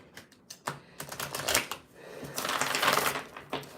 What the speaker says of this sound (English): Give it a couple more shuffles here.